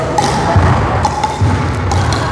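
Pickleball volleys traded back and forth in a practice drill, a run of quick hollow paddle-on-ball taps at a steady, close rhythm over light background noise.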